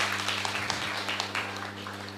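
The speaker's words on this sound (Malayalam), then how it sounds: "ഒരു കൈയടി കൊടുത്തേ" Brief scattered audience applause for a young girl, a light patter of clapping hands over a steady low hum.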